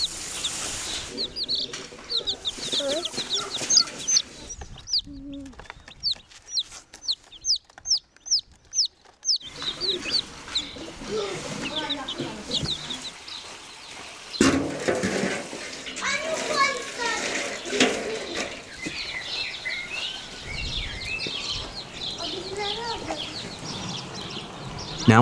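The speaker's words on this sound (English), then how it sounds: "Look at these little chicks." Chickens and small chicks cluck and peep around a village outdoor cooking spot, a run of quick rhythmic chirps standing out amid busy background noise, running water and occasional voices.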